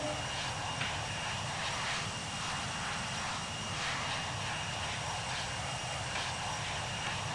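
Airbus airliner engines in the Infinite Flight game spooling up to takeoff thrust, a steady broadband roar with a rising whine, loud and continuous throughout with no talk.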